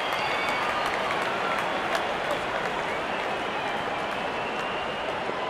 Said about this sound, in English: Such a wonderful crowd in to watch their favorite players.